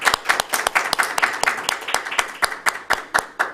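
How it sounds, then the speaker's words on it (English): A round of applause from members at a Toastmasters club meeting: dense, rapid hand clapping from a modest group, fairly close and steady throughout. "Let's give Gwendolyn a round of applause"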